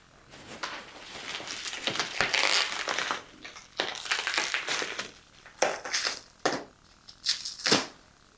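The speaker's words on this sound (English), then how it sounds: "let's unbox it and see what it really looks like without all the outer packaging" Packaging being torn open and pulled away from a newly bought art piece, with bursts of loud crinkling, crushing and ripping that start and stop unevenly, close up.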